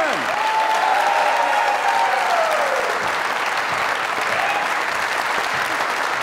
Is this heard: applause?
yes